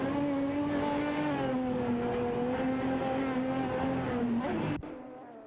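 Race cars in a racing video game, a loud sustained engine whine holding and rising in pitch as they accelerate, then cutting off abruptly near the end, no talking.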